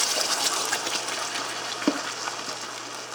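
Tofu scramble mixture sputters and hisses in a hot pan with olive oil, a steady close frying crackle with one sharp pop partway through.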